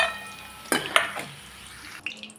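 Paneer cubes and green peas fry in hot oil with a steady low sizzle, punctuated by a few sharp clinks and scrapes of a spatula against the pan.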